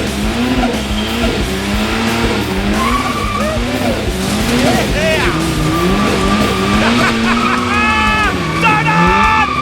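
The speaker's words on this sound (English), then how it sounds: "I'm gonna drive a Gemini, go do some skids" A Holden Gemini fitted with a limited-slip diff does skids, its engine revving hard under continuous loud tyre squeal that wavers up and down throughout.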